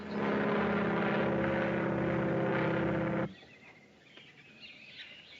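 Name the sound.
propeller airplane flying overhead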